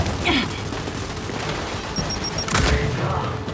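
In the Gears 5 video game, a grenade blast and bursts of gunfire sound under combat noise, with a sharp boom near the middle of a loud, dense battle mix.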